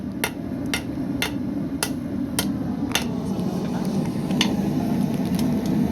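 A blacksmith hammers red-hot metal, bending over its corners, with sharp bright strikes in an uneven series of about ten blows, some close and loud, others fainter, over a steady low forge roar.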